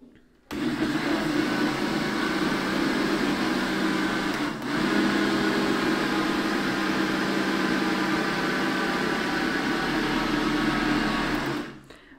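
A mixer or blender beats eggs, sugar and oil into a cornmeal cake batter, a steady loud motor whir running continuously for about eleven seconds with a brief dip midway, no talking.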